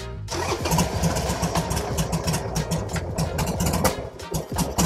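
A Harley-Davidson Sportster motorcycle engine cranks over and fires up, settling into a loud, lumpy idle with a steady throbbing pulse that holds close and strong throughout.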